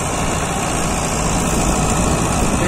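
A Powertrac Euro 60 Next tractor engine runs steadily up close, a loud continuous low diesel rumble and idle-like drone with no talk over it.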